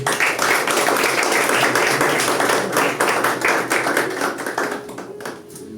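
A church congregation claps together during a Sunday worship service, a dense, steady roar of many hands that holds strong throughout and eases slightly toward the end.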